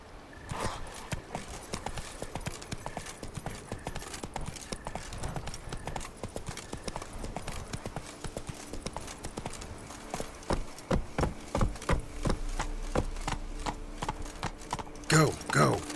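The horse Roach gallops in a video game, its hoofbeats a rapid, even clip-clop that keeps going throughout and grows louder and heavier toward the end, with a brief neigh possible among them.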